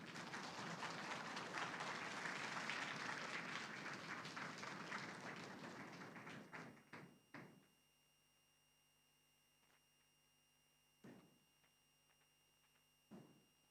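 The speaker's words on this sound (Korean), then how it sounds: "박수하도록 하겠습니다." A church congregation in Tashkent applauds during a Sunday baptism service, the dense clapping steady for about seven seconds before trailing off into quiet. A few isolated knocks or thumps follow.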